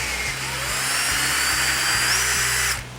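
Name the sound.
drilling spotlight hole in decking board offcut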